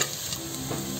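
Chopped garlic sautés in oil left over from frying fish, giving a brief, steady close sizzle with some stirring and no voices.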